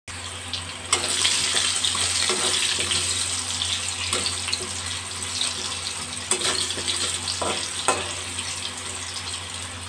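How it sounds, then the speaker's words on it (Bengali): Potatoes seasoned with a pinch of salt and turmeric fry in a pan over a raised gas flame, giving a loud, steady sizzling hiss with occasional crackles and no talk. "2 মিনিট আলুগুলো ভাজা হবে।"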